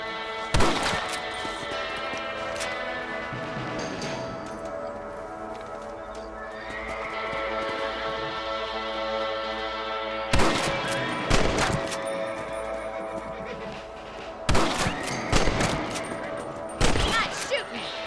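Rifle shots in the Western game Red Dead Redemption: one sharp crack early, then a cluster of loud shots spaced a second or two apart near the end, over a steady bed of game music and ambience.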